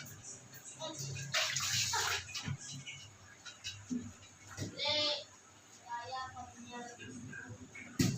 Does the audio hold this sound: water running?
yes